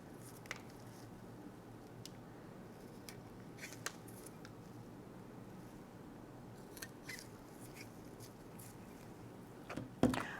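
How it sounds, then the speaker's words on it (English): A rotting root on an anthurium plant is snipped away with scissors in a quiet room: a few faint, sparse cutting clicks and soft squishes, ending in a slightly louder snip. "I'm gonna cut that away."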